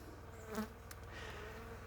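Bees buzz around the hives of an apiary in a ravine in late September, a constant, moderately loud drone with one insect passing close by.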